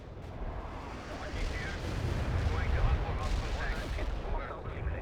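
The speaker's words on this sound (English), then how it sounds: "Artillery strike on the way." Artillery barrage from the World in Conflict video game: dense, rumbling booms and blasts roll continuously at high loudness, with layered impacts building through the middle and a mix of game speech underneath.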